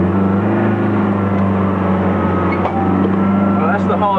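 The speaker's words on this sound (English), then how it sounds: "I think I better get some revs up before I try that." Engine of a vehicle driven by a mine-clearance troop in Bosnia, revving with a steady low drone and a rising strain, loud and close, under voices.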